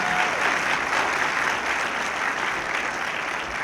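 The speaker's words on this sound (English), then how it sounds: "Let's give another round of applause to our Mayor" A crowd at a memorial service for healing and hope gives Mayor Byron Brown sustained applause: dense, even clapping from many hands that fills the room without a break and carries no speech.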